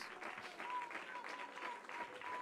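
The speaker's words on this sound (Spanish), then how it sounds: "Dale ese aplauso al Eterno." Church congregation clapping in praise during a worship service, faint continuous applause from a crowd with a thin tone running through it.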